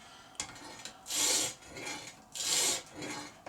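A blade is sharpened on sandpaper in slow, regular rasping strokes, with two loud strokes alternating with quieter return passes, heard close up.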